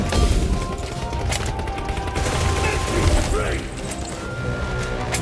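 Gunfire during a PUBG Mobile squad match comes through as a dense mechanical clatter of shots mixed with other game noise, loud and continuous throughout.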